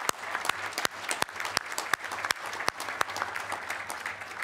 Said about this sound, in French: j'aimerais une petite main d'applaudissement pour Gilbert